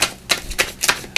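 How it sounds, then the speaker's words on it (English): Tarot cards for a pick-a-card reading being shuffled by hand, four crisp, evenly spaced riffling snaps close up against a quiet background, with no talking. "Let's shuffle here."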